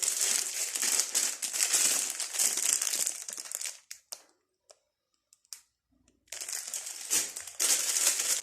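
Plastic packaging for earrings crinkling and rustling close up while being opened, in dense bursts that stop for about two seconds with a few faint clicks, then start again, with no talking.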